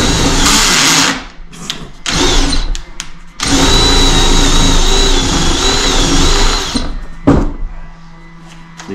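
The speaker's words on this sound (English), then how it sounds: "Very soft and easy to drill into." A power drill whirs loudly in several bursts, revving up and cutting off between pauses as it drills into soft 2x6 lumber, close up with no voices.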